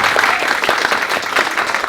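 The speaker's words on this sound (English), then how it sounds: "let's give Stacy a round of applause" Brief, full applause from an audience at an Eagles Christmas show in 2015 as Stacy is called up, a steady rattle of many hands clapping.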